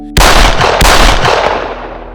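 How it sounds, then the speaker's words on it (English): Gunshots from an assassination sound effect: a sharp loud blast followed by a second close crack under a second later, both with a long booming echo fading away, with no talking. "2 gunshots ended the lives of Franz Ferdinand and Sophie."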